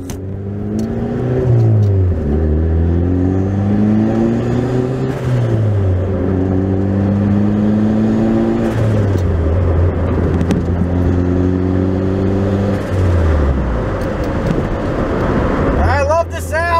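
A turbocharged Honda Prelude engine revs under boost, its loud droning pitch climbing and falling through several pulls, heard close and continuous from inside the car.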